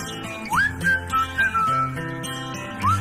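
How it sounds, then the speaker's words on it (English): A few short whistle toots ring out over background noise, one longer rising blast followed by a brief second one. "Can you blow my whistle?"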